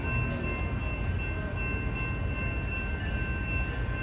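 Interior of a passenger train riding toward the airport, a steady low rumble of wheels and carriage noise with a faint electrical whine, continuous and fairly loud with no speech.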